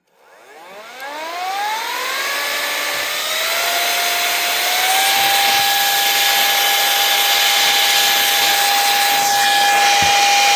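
An electric air duster blows out a Milwaukee M12 ratchet: a close, loud motor whine climbs in pitch over a few seconds, then holds a steady high tone with rushing air.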